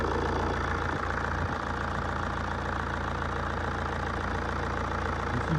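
A 1.9 litre diesel engine in an Alfa Romeo GT idles steadily and loudly nearby, a continuous low rumble with a fairly constant level throughout and no talking.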